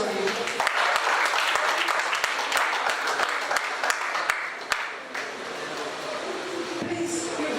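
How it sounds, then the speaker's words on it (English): An audience at a student English and literary studies conference gives sustained applause, a dense wash of clapping with a few sharp individual claps. The applause fades slightly toward the end, and faint voices come through underneath. "A round of applause for you."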